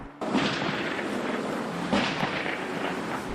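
Fireworks in Southern California detonated by a bomb squad: a loud, dense roar of crackling blasts with sharp bursts near the start and again midway, sustained and close, with no talk.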